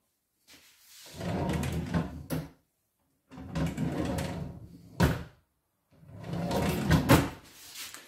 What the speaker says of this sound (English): So I'm just going to try the drawer to see if it fits.